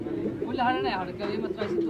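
Pigeons coo at the Saruliya pigeon market in Bangladesh, soft throaty calls mixed with overlapping voices of nearby people talking in the crowded market.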